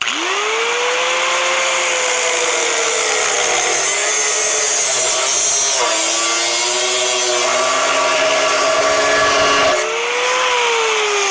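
A power tool cuts metal motorcycle chopper parts at an angle in a workshop, a loud, steady high-pitched whine running continuously with slight pitch dips as the blade bites, no talking.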